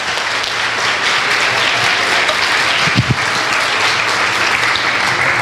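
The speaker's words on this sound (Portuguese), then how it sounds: "Aplauda o Senhor." A church congregation at an evangelical service in Caldas Novas breaks into loud, sustained applause, a dense continuous wash of clapping that fills the room for several seconds with no voices over it.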